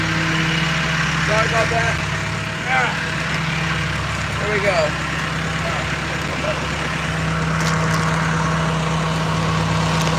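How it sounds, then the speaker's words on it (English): A fishing boat's engine drones steadily close by inside the cabin, a constant low rumble and hum while someone speaks briefly over it. "It's gonna be loud, noisy. Unpleasant noises, dirty boat."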